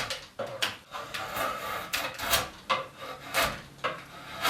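Chisel or rasp shaping a wooden arm rail, with small bursts of splitting wood fibers, several close scraping strokes in an irregular rhythm, fairly loud and with no talk.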